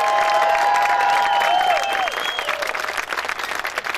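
A large outdoor crowd claps and cheers steadily for a band at a park concert celebrating a fire department's centennial, with whistles rising above dense, sustained applause that gradually thins out.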